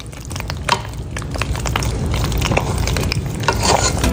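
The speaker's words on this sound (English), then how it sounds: "Now we're gonna add those noodles into the sauce, mix it, stir it." Cooked noodles are stirred through a thick cheese sauce for vegan mac and cheese, giving a continuous close, wet, squelching and sticky churning with soft smacks, steady throughout without any voices.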